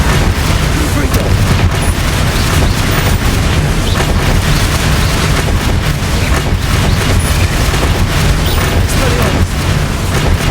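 Confringo blasting spells in the Hogwarts Legacy video game erupt in a dense, loud, nonstop barrage of booming explosions and crackling bursts that fill the whole stretch without a pause.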